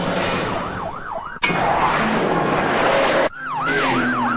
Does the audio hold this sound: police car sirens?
yes